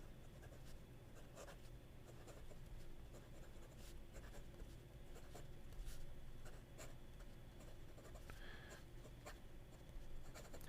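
A pen scratches across toothy Ungdian paper in a faint, close, continuous scritching with small strokes and pauses, quiet under light room hiss.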